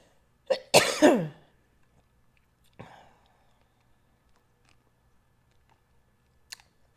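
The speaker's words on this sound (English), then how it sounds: "the cough, in this case, I think it's just from talking too much." A sharp cough burst followed by a rough, raspy second cough, then a smaller cough a moment later and a faint click near the end; otherwise quiet.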